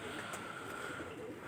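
Pigeons coo softly on a rooftop loft, a few low rolling coos heard moderately close against a steady ambient background.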